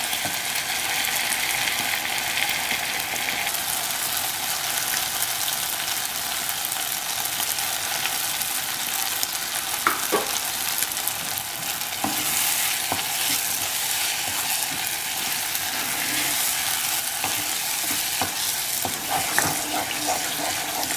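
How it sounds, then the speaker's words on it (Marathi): Green masala sizzling in a pan for a Goan stingray fish curry with onions and tomatoes, a steady loud fry with occasional scrapes and clicks of stirring, no talking. "आता न्हू मसाला हो बरो फ्राय करूंक जाय एटलिस्ट फॉर 2 मिनिट्स."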